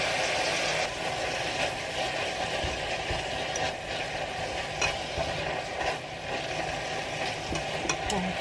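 Food stir-frying in a pan makes a busy, steady sizzle with scraping and stirring clatter throughout, close and moderately loud, with occasional sharper ticks and a low background hum.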